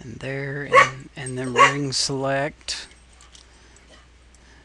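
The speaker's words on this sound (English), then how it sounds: "sorry if you heard the dogs barking." Dogs bark in the background, a few short barks audible under and between a man's speech, moderately close.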